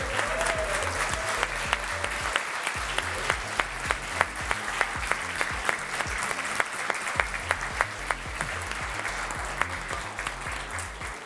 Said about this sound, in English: huge round of applause for Black Lotus